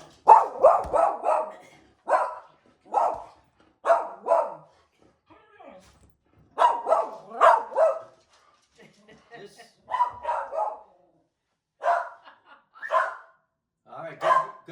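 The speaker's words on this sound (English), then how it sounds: "let's see if Caper goes nuts when the post person arrives." A guard dog barks at a mail carrier arriving at the house: repeated loud bursts of barks and yips in clusters, with pauses between, close by and mostly on their own.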